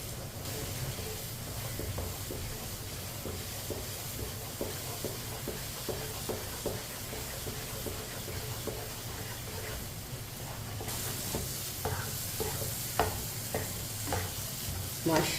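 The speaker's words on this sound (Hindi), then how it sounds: "इसी तरह चम्मच चलाते हुए पकाना है इसे।" A spoon stirs thick suji halwa in a pan, soft repeated scraping strokes over a low sizzle, close and steady, growing brighter and busier in the last few seconds.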